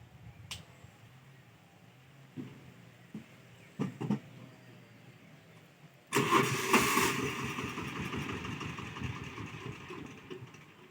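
An Emirsan VOM 510M 4x4 with Özka tires, stuck in mud, is cranked and fires up after a few quiet clicks and knocks, then revs hard and keeps roaring loudly and unsteadily.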